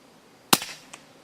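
One EDgun Leshiy air rifle shot at a target outdoors in wind, a sharp dry crack with a brief tail and a faint second tick a moment later.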